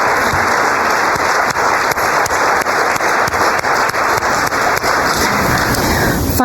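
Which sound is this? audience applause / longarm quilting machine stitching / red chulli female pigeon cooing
audience applause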